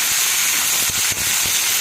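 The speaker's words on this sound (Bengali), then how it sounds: "এবার কেটে রাখা কুমড়োগুলো দিয়ে দিচ্ছি" Cut pumpkin pieces dropped into hot oil with chilli and flattened rice, giving a loud, steady close-up sizzle and hiss that holds without a break.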